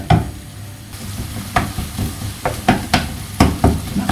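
Salmon cooking in a home kitchen pan, a steady sizzle with several sharp clatters and scrapes of a utensil stirring against the pan, close and fairly loud, with no talk.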